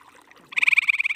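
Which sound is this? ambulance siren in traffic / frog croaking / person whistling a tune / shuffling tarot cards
frog croaking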